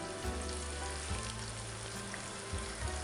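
Tomato paste hitting hot oil in a pan for paneer curry gives a steady, close frying sizzle with faint low bubbling, with no talk.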